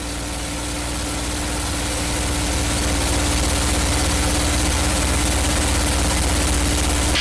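P-51 Mustang piston engine droning in flight, heard from inside the cockpit as a loud, constant roar with a steady low hum that swells slightly at first and then holds level.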